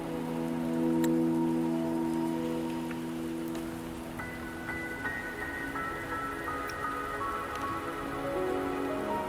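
Steady rain falling and pattering on surfaces in the Wuthering Waves video game, a constant close wash of drops that stays even throughout, with sustained tonal ambient music layered over it.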